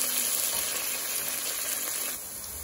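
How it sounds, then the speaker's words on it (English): Vegetables and turkey necks stir-frying in a pan over medium heat, a dense, continuous loud sizzle close by with no voices, easing slightly near the end. "I'm going to stir fry these"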